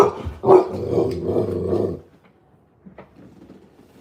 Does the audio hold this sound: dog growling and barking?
yes